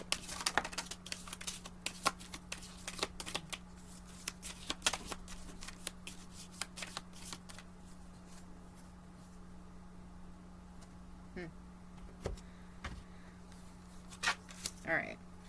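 Tarot cards being shuffled by hand, with repeated quick riffling and flicking bursts close by, interrupted by pauses, over a steady electrical hum.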